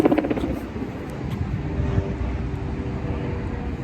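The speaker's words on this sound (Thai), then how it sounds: "เสียงเครื่องบินแบบนี้เหมือนเขาจะทิ้งอะไรสักอย่างหนึ่งอะ" A low, broad rumble from an airplane flying overhead holds steady throughout, loudest at the start and then sustained without any talking.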